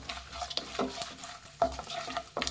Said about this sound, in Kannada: ಇದನ್ನು ಮೀಡಿಯಮ್ ಫ್ಲೇಮಲ್ಲಿ ಈಗ ಫ್ರೈ ಮಾಡಬೇಕಾಗತ್ತೆ.